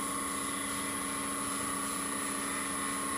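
A wood lathe turning a bottle stopper spins at about 1500 RPM while a bead is cut, producing a loud, steady whine with constant tonal hum and broadband rush, uninterrupted throughout.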